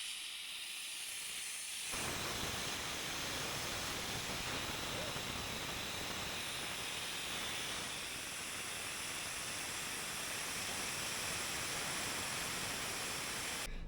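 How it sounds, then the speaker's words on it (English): An air-powered venturi extractor tank, hooked to an air hose, draws old gasoline out of a Sno Jet snowmobile gas tank with a loud, steady rushing hiss that starts abruptly and continues unbroken to the end. "So I got this extractor tank, and you hook up your air hose to it, and it does like a Venturi effect thing, and it sucks."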